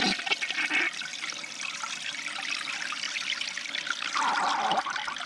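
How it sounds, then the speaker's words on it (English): A clogged toilet bowl with toys stuck in the drain flushes loudly and close by, water rushing and swirling for several seconds, then trickling as it rises again. "Let's go ahead and flush it and see what happens."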